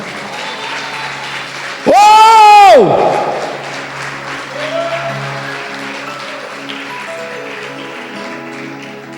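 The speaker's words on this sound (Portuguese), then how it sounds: "Quem crê aplauda e glorifica mais ainda." A church congregation applauding during a sermon, a broad patter of clapping under a loud shouted exclamation near the start, then sustained crowd noise and scattered voices carrying on behind.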